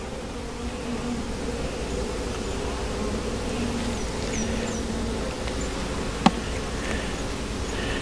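A dense, steady drone of many honey bees buzzing close around an open hive frame, with one sharp brief tick near the end and no voices.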